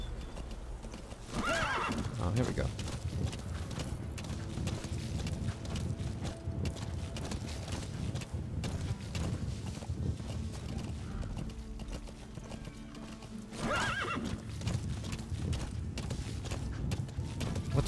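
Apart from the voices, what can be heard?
horse galloping in video game Metal Gear Solid V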